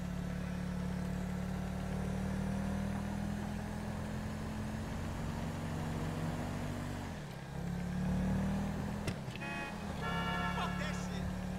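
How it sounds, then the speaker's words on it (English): Steady mid-pitched engine drone of an Ocelot Jackal car driving in GTA V Online, holding a constant hum before a brief dip and a few sharp higher chirps near the end. "Also, post down in the comments if you really like this car. It's called the Ocelo Jackal."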